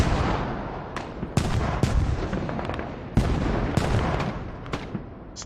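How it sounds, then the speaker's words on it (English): Artillery barrages in a large-scale video game battle, a series of heavy booms and sharp blasts spaced irregularly over a rumbling, crackling background with no talk. "And artillery will be dropping on it."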